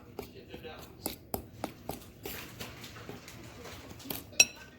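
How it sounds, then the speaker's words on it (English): Wet and dry batter for banana Reese bread is folded together in a bowl: quiet, irregular clinks and taps of a utensil against the bowl, one louder knock near the end, with a voice talking in the background. "we're just gonna mix it with dry ingredients. And fold it, mix it completely"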